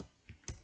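A few quiet keystrokes on a computer keyboard, two or three soft clicks spaced a fraction of a second apart, close and faint.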